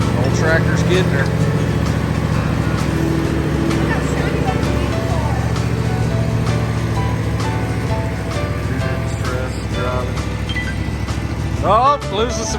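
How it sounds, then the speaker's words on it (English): An old tractor engine drones steadily as it tows a Ford F-150 pickup truck, a low, continuous rumble running the whole way with someone talking over it. "I don't think the old tractor's built for this."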